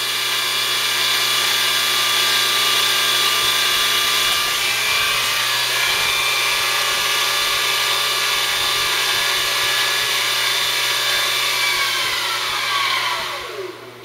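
A Weiss CNC machine spindle runs at maximum RPM, a loud steady high-pitched whine with tonal harmonics that holds, then drops in pitch and winds down near the end.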